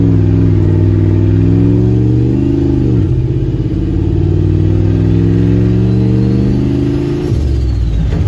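A turbocharged LS-swapped Caravan engine drones loudly and steadily while driving, its tone rising under acceleration, dipping sharply around a shift, then climbing again before easing off, with no exhaust note and no talking.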